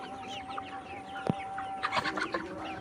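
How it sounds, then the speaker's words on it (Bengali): Layer pullet chickens about 67 days old cluck softly and steadily in a poultry shed, with a brief louder squawk and a burst of clucking toward the end over a constant hum. "আমার এই লেয়ার মুরগির"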